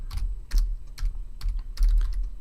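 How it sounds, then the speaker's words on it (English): Computer keyboard keys tapped in short quick bursts of several clicks each, close and crisp, over a low steady background hum, with no talking. "So we're going to type that into the box."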